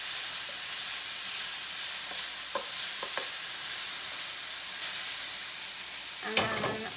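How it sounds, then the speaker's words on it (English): Vegetables sizzle in a pan with a steady, fairly quiet hiss, broken by a few scraping stirs and a louder clatter of the utensil near the end. "I'm going to give them a little stir."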